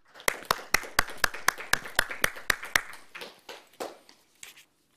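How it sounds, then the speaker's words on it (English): Live audience at an awards show clapping after a musical performance, a dozen sharp, evenly spaced claps at first that loosen and thin out, scattered and fading to silence near the end. "So I think, I just think we'll give you another little round of applause because that was amazing."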